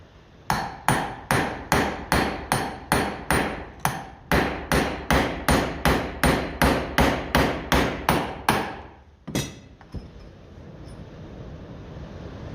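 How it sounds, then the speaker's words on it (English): Repeated hammer blows tapping a socket out during a Lucas D3A4 distributor overhaul, about twenty sharp evenly spaced metallic strikes close up, then a lone knock and quiet workshop hiss. "We'll just tap that socket back a bit because I think I might need something better now to tap that out."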